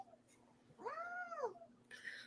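A cat gives one drawn-out, rising and falling meow, close and moderately quiet against a soft background, with a brief faint sound just afterward.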